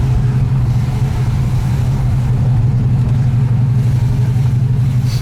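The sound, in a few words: Ford GTHO Phase 3 tribute engine accelerating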